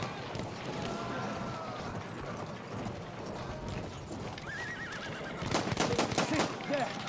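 A horse whinnies amid Battlefield 1 combat, a wavering neigh rising over a steady background of hoof clatter and game noise, followed by a burst of sharp gunfire-like cracks toward the end.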